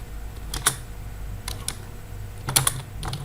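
Code is typed on a computer keyboard in a few short, sparse bursts of sharp, close keystrokes over a low background hum.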